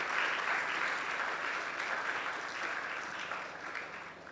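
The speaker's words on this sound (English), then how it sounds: "I believe we can give a round of applause to the Ghana Education Service." A live audience applauds steadily for the Ghana Education Service at the Onga Cook Art Finals, a school competition. The clapping is dense and sustained for several seconds, then tapers slightly at the end.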